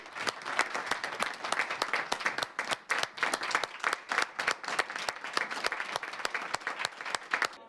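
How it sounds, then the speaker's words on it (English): People at a county council meeting applaud retiring staff, a steady, close stretch of rhythmic clapping with distinct individual hand claps standing out across the whole span. "We applaud you with enormous gratitude."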